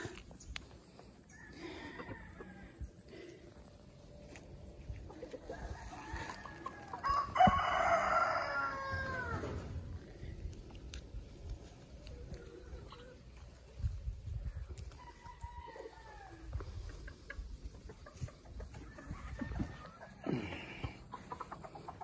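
A Rhode Island Red rooster crows once clearly near the middle, loud and close, with rustling, handling noise and faint farmyard sounds around it.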